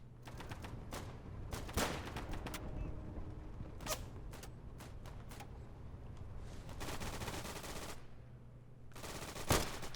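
Gunfire in the WWII shooter Day of Infamy: sharp, separated rifle cracks and short bursts, some close and loud, others more distant, over a low steady hum.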